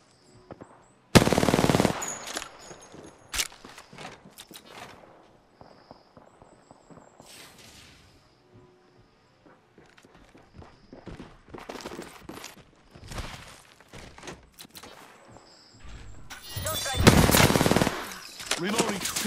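Gunfire in the shooter Apex Legends: sharp bursts of automatic fire, with the loudest near the start and the end, scattered shots and footsteps between, faint overall.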